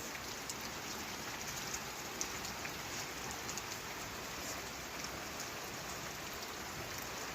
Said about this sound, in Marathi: वादळ वारं हो. पाऊस